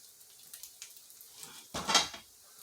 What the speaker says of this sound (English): The eggs should sizzle when they go in.